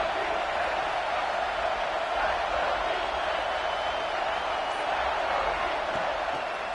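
Steady stadium crowd roar in a college football video game with Ole Miss, a broad, even wash of cheering noise that holds constant throughout without breaks.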